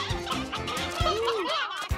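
Cartoon chickens clucking and squawking in quick, rising and falling calls with a few sharp thumps, close and lively, with no talking.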